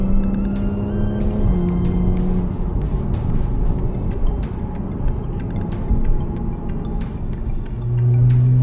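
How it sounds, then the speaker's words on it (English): A 2015 Porsche 911 Carrera 4S flat-six engine runs steadily at close range, its low rumble shifting in pitch, with a few sharp mechanical clicks scattered through. "let you hear the beautifulness of the flat 6."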